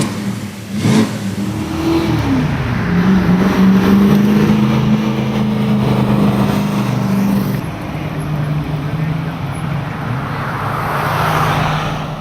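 A classic car engine revs and rumbles as the vehicle pulls away at a classic car cruise night, its tone rising then fading into steady road noise.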